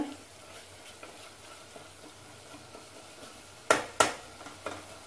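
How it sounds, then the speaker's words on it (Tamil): Masala powder sautéing for chicken curry, a low sizzle broken by a few sharp spoon scrapes and taps against the pan near the end, close and without speech. "மசால் பொடியெல்லாம் நல்லா அந்த பச்சை வாசனை ஓரளவுக்கு கொஞ்சம் வதக்கிக்கோங்க"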